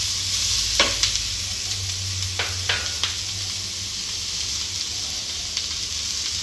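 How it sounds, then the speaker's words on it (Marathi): Onion being stir-fried with spring roll vegetable filling in a hot pan, a loud continuous sizzle with several quick scraping stirs of the spatula, close up and without talk. "कांदा मी लेट टाकत आहे, कारण कांद्याचा क्रंचीनेस कच्चा थोडा छान लागतो स्प्रिंग रोलमध्ये"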